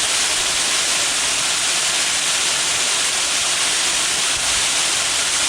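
Buttermilk Falls in western Pennsylvania, heard from behind the falling water beneath a sandstone overhang, gives a loud, steady, unbroken roar of spray and rushing water.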